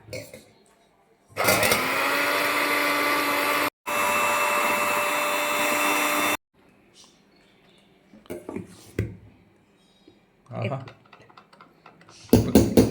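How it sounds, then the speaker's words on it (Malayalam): An electric beater whips eggs until fluffy, giving two loud, steady, high-pitched motor runs separated by a brief stop. Scattered clicks, knocks and voices follow once the motor halts. "നമുക്ക് ബീറ്റർ വെച്ച് ഒന്ന് ഫ്ലഫി ആക്കിയെടുക്കാം"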